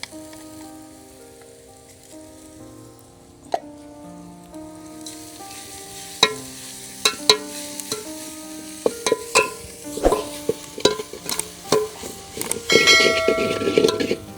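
Coconut, ginger, coriander and garlic paste frying with onions in a pot on a wood-fired stove, sharp crackles and spattering pops building over a faint ringing background, growing busier toward the end.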